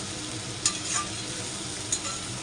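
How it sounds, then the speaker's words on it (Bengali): Bottle gourd peel fries in plenty of oil in a kadai, making a steady close sizzle with a couple of brief spatula scrapes. "এই দেখো কড়াইতে কিভাবে ভাজা হচ্ছে।"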